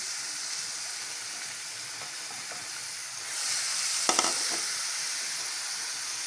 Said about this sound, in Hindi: हम लहसुन अदरक का पेस्ट डाल रहे हैं इसके अंदर, 2 टेबल स्पून।